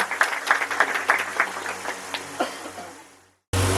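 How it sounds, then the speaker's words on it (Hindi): An audience at a student talent honour ceremony of the Munda community in Jharkhand claps for a teacher, the brisk rhythmic applause fading out before a sudden cut to a different sound. "इनके लिए जोरदार तालियां।"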